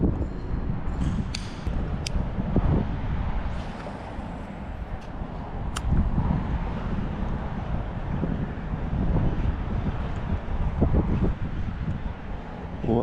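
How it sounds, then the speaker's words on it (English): Strong wind blowing across a canal bank during pike fishing, a continuous low rumbling buffet against the microphone with gusty swells throughout. "Oh, that's a wind and a half, that."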